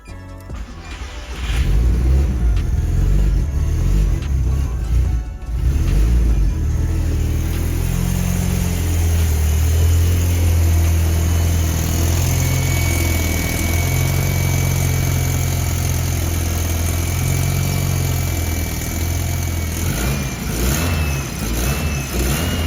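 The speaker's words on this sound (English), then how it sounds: "As you can hear, the exhaust leak is quite bad." A VW Citi Golf engine with a badly leaking exhaust starts and idles loud and close, a rough pulsing rumble with a few revs, heard alone without talk.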